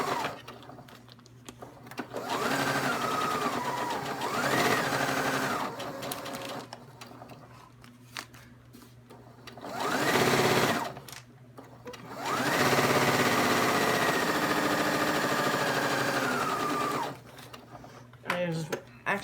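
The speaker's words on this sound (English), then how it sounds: "I was actually wondering how good it would sew on my new Singer 6600C HD sewing machine" A Singer 6600C HD sewing machine stitches clear plastic in several bursts of steady, fast motor whirring, separated by pauses, with a person talking over and between the runs.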